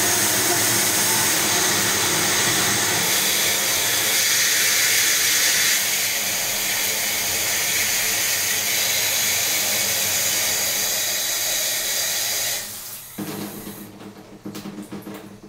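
A handheld shower head sprays water in a steady loud hiss that shifts slightly in strength, then cuts off abruptly near the end as the stop button on the head is toggled, leaving quieter handling noises.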